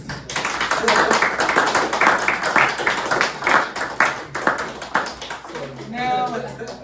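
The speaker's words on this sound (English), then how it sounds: "please give a round of applause" A crowd claps and cheers in a dense burst of applause lasting several seconds, with a voice speaking over it near the end.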